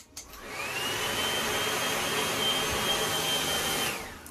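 A hair dryer on its cool setting blows over freshly applied wig glue, a steady loud whoosh with a faint high whine that starts abruptly, runs for about three and a half seconds, then cuts off.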